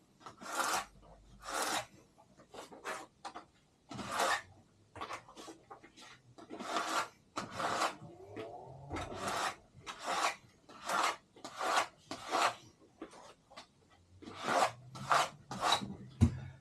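A spatula presses and rubs a vinyl decal onto a surface, giving a string of repeated rasping scrapes in uneven bursts. The scrapes are close and moderately loud, and there is no talk.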